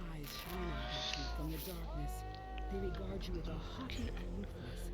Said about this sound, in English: So here's our room full of cats.